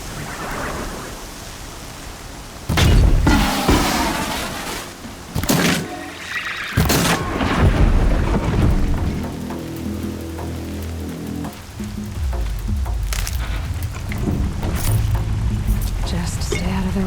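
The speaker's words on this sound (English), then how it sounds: "Here comes the rain." Steady hiss of heavy rain in Horizon Zero Dawn fills the clip, broken by a few loud thuds, with voices talking over it.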